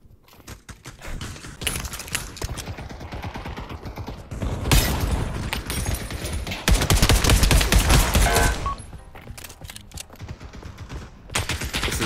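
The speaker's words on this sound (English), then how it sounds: "how many shots are there?" Sustained rapid automatic gunfire from the VR shooter Pavlov VR, loud and dense bursts with brief gaps, rising into heavier overlapping volleys in the middle before thinning out, no talk over it.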